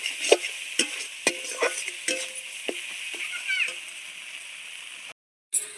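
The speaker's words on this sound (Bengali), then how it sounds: "অল্প একটু নাড়াচাড়া করতে করতেই পালং শাকটা কেমন নরম হয়ে এসছে" Spinach stirred with spices in a pan, a soft sizzle under repeated spoon knocks and scrapes against the metal, close by, ending in a sudden cut to silence before a brief return.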